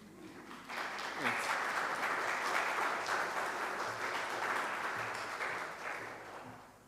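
A church congregation breaks into warm applause for a choir and violinist, the clapping swelling after a quiet start, holding steady, then tapering off, with some voices mixed in.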